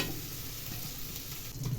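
Cubes of paneer fry steadily in a hot pan for a Kannada-style paneer gravy, giving a continuous close sizzle with soft crackles throughout and no voices.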